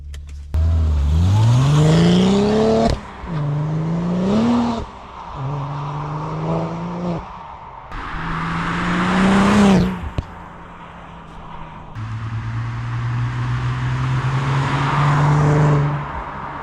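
A BMW 1 Series with a pop and bang map revs hard in several long, loud sweeps, rising and falling close up, with sharp cracks between some of the revs.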